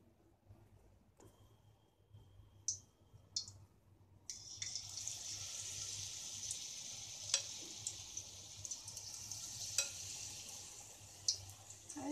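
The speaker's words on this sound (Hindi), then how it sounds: "अब हम गोभी को गोल्डन फ्राई होने तक फ्राई कर लेंगे।" Cauliflower pieces frying for Gobi 65 in hot oil, a steady bright sizzle that starts suddenly after a quiet moment and keeps going with occasional small pops, close and moderately loud.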